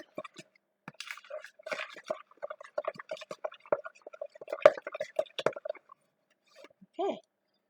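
Thick chilled instant pudding being stirred in a bowl, giving soft wet squishing and dripping sounds in an irregular rhythm, close and fairly quiet, with short pauses between strokes.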